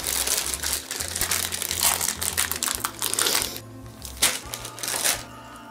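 Crinkly plastic M&M's candy wrapper rustling and crumpling in fits and starts, close by, with a few sharper crackles as the package is torn open.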